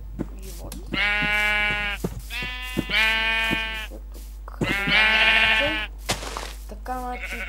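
Blocky Minecraft sheep bleat in a survival game, with three long, loud, wavering bleats in steady succession and the start of a fourth at the end, with no other sound between them.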